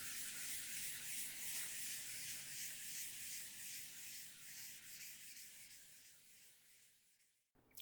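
Steady rubbing of an eraser across a writing board in a lecture setting, a continuous hissy scrubbing with rhythmic back-and-forth strokes that fades and stops abruptly near the end.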